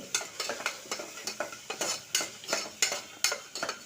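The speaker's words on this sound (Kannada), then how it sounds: "ಇಲ್ಲಿ ಅವರೆಕಾಯಿ ಏನು ಬಿಡಿಸಿಟ್ಕೊಂಡಿದ್ದೀನಿ ಅದನ್ನು ಹಾಕ್ತಾಯಿದ್ದೀನಿ ಸ್ವಲ್ಪ ಉಪ್ಪು ಹಾಕಿ ಹಾಗೆ ಎಣ್ಣೆಯಲ್ಲಿ ಸ್ವಲ್ಪ ಬಾಡಿಸ್ಕೊಳ್ಳಿ" Shelled field beans (avarekalu) sauté in oil with salt, a soft sizzle broken by a steady rhythm of spoon scrapes and clinks against the pan as they are stirred.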